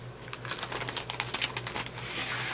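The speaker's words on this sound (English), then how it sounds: "I'm going to cut that with my scissors" Scissors cut a clear plastic cover strip along a drawn line, giving a close run of crisp, quick snipping clicks over a low steady hum.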